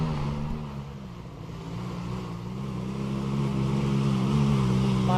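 Honda trail motorcycle engine revving steadily on a mountain trail, a loud, continuous low drone that builds gradually in intensity.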